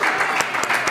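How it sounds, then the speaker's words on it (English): A short burst of steady, full audience applause at a WordCamp gathering, close and loud, with a few sharper individual claps standing out. "Please, let's clap for that lady."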